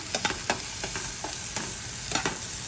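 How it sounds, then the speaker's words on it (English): Shallots and garlic sizzling in hot oil in a pot while being stirred, a continuous close sizzle punctuated by quick scraping strokes of a spoon. "I'm just gonna put some shallots in here and some garlic. I'm gonna stir it around."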